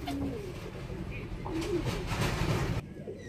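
Pigeons coo in a loft, their soft low warbling calls close by, with faint background chatter underneath.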